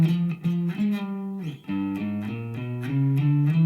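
A guitar plays a descending G half-whole diminished scale run, with clear distinct notes stepping downward in a quick steady rhythm. The tone is slightly driven and there is no talking.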